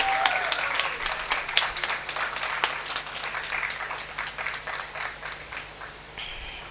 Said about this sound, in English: Come on, the round of applause should be louder.